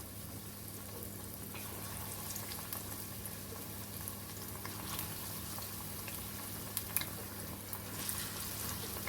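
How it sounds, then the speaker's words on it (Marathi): Green chillies frying one by one in a deep layer of hot oil over a low flame, a soft steady bubbling sizzle that carries on throughout with a few faint clicks near the end. "जेवढं मिरची बुडतील इतकं तेल आपल्याला घालायचं आहे आणि आता आपण एक एक मिरची घालून घेऊया"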